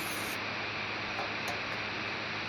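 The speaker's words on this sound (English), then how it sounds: "So I'm spraying some cooking oil" Cooking oil sprays from a can into a baking dish, a continuous, close, airy hiss that holds steady throughout without any talking.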